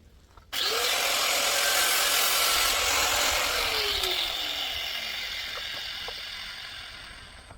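Material for a waste bin is cut to about three feet in one continuous, close, loud rasping pass that starts abruptly and slowly fades toward the end.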